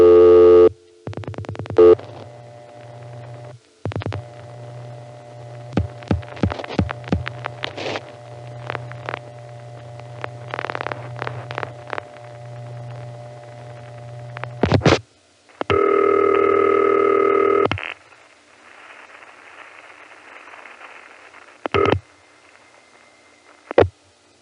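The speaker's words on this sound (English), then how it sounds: "If you listen to the pulsing after I dial the number, which on this call I dial all at once" Call pulsing after dialing through a crossbar telephone exchange on the West 73rd Street panel, 1975: steady tones and hum with rapid clicking pulse bursts, a long loud tone, then quieter line noise.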